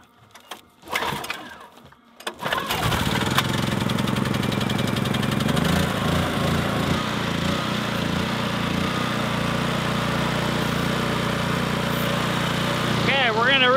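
A generator runs steadily outdoors, a loud constant engine drone that starts after a few seconds of quieter clatter and holds evenly to the end, with no talk over it.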